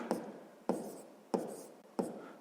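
Four crisp pen strokes on paper, evenly spaced and close, as math exercise notes for a sixth-grade lesson are written down in a quiet room.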